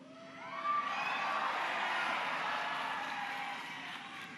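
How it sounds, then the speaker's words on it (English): A large crowd at a March for Life rally cheers and whoops in a sustained, fairly distant roar that swells and then slowly fades, with no talk over it. "It's an amazing crowd."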